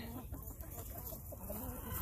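Hens cluck softly on a small farm, low muttering calls somewhat distant amid steady background noise.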